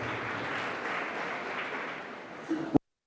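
Students applaud in a steady wash of clapping at a school ceremony, fading slightly before a sharp knock and sudden silence.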